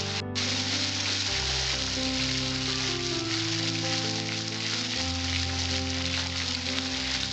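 Masala of turmeric and salt sizzling in a hot pan while cooking okra masala, a steady close crackle and hiss with occasional stirring scrapes, sustained throughout.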